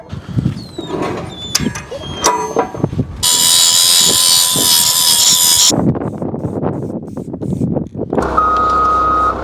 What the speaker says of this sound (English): I've got to disconnect that backup alarm.